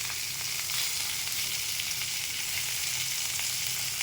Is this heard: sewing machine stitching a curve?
no